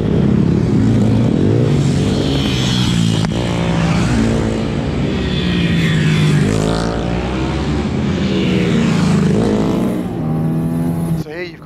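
Pit bikes, including a Honda CRF150 and a SyMoto, lapping Kinsham Raceway in February, their engines droning and revving steadily with rising and falling pitch as they pass, under continuous talk.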